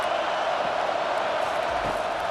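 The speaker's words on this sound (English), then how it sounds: "This crowd busting the decibel meter and trying to will a 4th down stop." Stadium crowd in EA Sports College Football 25 at an Alabama versus Missouri game, a loud steady roar of cheering fans pushing for a fourth down stop, continuous and distant-sounding, no clear voices over it.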